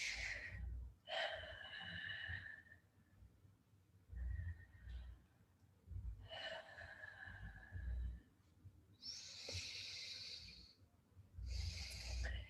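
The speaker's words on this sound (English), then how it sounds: "I invite you again to take 3 strong breaths" A group of people taking strong, deep breaths during a guided breathing session, with long audible inhales and exhales in a steady repeating rhythm, close and breathy, with several rushes of air.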